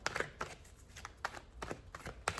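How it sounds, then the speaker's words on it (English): Tarot deck being shuffled by hand, a series of quick soft riffling bursts and taps in an irregular rhythm, close and fairly quiet. "we're going to do one more shuffle"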